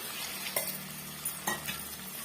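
Bitter gourd gravy vegetables sizzle steadily in a hot pan, with a couple of sharp scraping knocks as a spoon stirs them.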